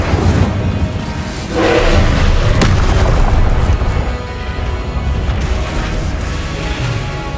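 In the Hogwarts Legacy video game, the Incendio fire spell bursts with a heavy whooshing boom. A roaring blast swells and lingers over rumbling combat noise.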